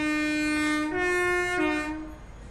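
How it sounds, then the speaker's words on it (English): The Inverness train in Train Sim World 6 sounds a loud, sustained, rich horn-like tone that shifts pitch twice before fading near the end, with no talk. "So this is the Inverness train."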